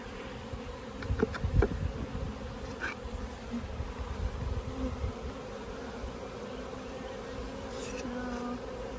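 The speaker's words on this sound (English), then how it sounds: "I'm wondering if some of those bees that were with that swarm maybe came back to the hive" Honey bees buzz steadily inside a hive after a swarm, a continuous low hum of many insects at close range with a few louder passes of individual bees and no speech.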